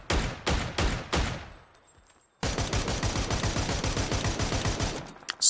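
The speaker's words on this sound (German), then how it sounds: "Ich mache mal schnell alle beide Waffen leer." A few separate rifle shots from two rifles in PUBG ring out, a short pause follows, then a rapid, sustained burst of automatic gunfire rattles loudly.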